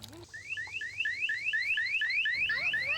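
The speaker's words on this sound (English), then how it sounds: "Now, once that wristband gets wet, this alarm goes off." A Safety Turtle child's pool wristband alarm, triggered when the band gets wet, sounds a rapid series of rising electronic chirps, about nine sweeps repeating steadily and loud, close by with no talking.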